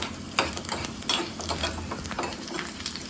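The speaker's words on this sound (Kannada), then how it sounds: "ಬೆಳ್ಳುಳ್ಳಿನ ಎಣ್ಣೆಲಿ ಕರ್ಕೊಬೇಕು" Chopped garlic frying in hot oil in a small pan gives a steady, close crackling sizzle broken by sharp little pops and spits, with no voices.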